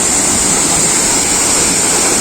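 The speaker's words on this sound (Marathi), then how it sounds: "तर हा आहे धबधबा. किती मोठा वरून पडतोय ते." Vajrai waterfall on the Kas plateau plunging from a great height, a loud, dense, unbroken roar of falling water filling the whole clip.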